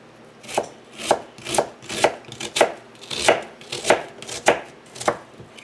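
A knife chops a red onion on a board in about ten steady, evenly spaced strokes, each a crisp thud, close and clear with no talking.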